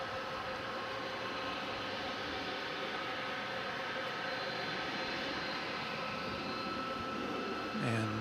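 UPS cargo plane at DFW Airport at night: a steady, broad roar of jet engines holding level throughout, fairly distant and continuous, with a brief tonal blip near the end.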